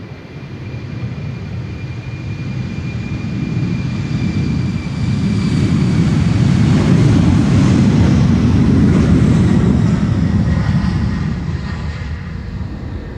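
A jet airliner takes off from the Polderbaan runway at Amsterdam Schiphol, a loud, broad engine roar that builds in the middle and then slowly fades as the aircraft climbs away, with no talking.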